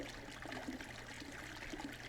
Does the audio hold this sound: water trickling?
yes